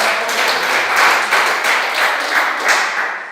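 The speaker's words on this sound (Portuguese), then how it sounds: "Mais alegre as palmas para o Senhor Jesus" A church congregation claps along in a steady, lively rhythm, many hands together filling the hall at an even, close level throughout.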